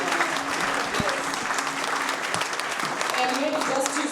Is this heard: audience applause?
yes